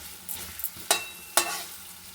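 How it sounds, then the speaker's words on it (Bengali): Carrots and chilies frying in a wok for fried rice, heard as two short loud stir-and-sizzle bursts with faint scraping in between. "গাজরটা আমি তুলে দিলাম, লঙ্কা কাটাও তুলে দিচ্ছি, আমি ভেজে নেব"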